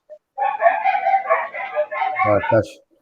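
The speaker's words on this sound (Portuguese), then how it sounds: "A cachorrada, né, Ico?" Dogs bark in a quick yapping burst, several sharp barks and whimpering yips close by, over a few seconds.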